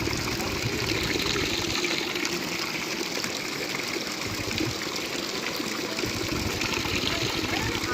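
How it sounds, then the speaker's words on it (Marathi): Water gushes steadily out of a hand pump that flows on its own, a loud, continuous splashing rush with a faint voice underneath. "तर पूर्ण हापशातून पाणी बाहेर पडतं मित्रांनो"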